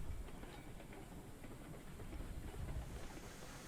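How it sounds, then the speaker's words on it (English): A train in the Railroad Online video game rolls along the rails with a continuous low rumble and faint clickety-clack, steady and moderately quiet, with no talk over it. "still rolling a bit. Better go put the brake on the train."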